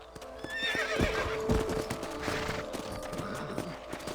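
Hooves clip-clop in a steady trot while a horse neighs loudly near the start, with harness jingles and a few sharp thuds, in the video game Red Dead Redemption.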